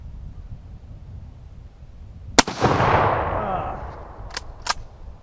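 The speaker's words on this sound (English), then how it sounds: "The concussive blast of the M44, especially with the modern day ammunition, is completely significant." A Mosin Nagant M44 carbine fires a single shot with modern ammunition outdoors, a sharp loud crack followed by a long rolling boom that fades over a couple of seconds, then two short sharp knocks.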